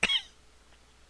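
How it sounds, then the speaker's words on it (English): A single sharp, close cough from a man getting over bronchitis, one harsh burst that fades quickly into quiet. "Excuse my cough."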